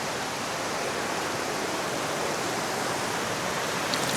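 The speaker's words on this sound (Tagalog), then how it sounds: "Yun, ang lakas ng tubig, oh." Strong river water rushes at Camp Payapa in Real Quezon, a loud, steady broadband roar that holds unbroken from start to finish with no voices over it.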